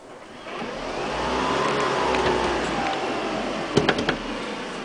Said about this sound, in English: now it's on and I'll spin the motor a bit.